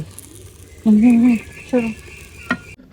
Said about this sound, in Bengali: আমার মাছ ভাজি হয়ে গেছে এখন আমি মাছ ভাজিটা তুলবো